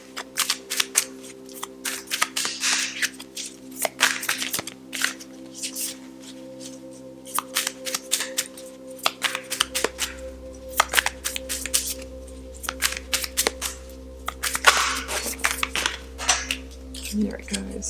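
Tarot cards are shuffled and handled at close range during a reading, giving a long run of irregular riffling, flicking and tapping bursts over a faint steady hum.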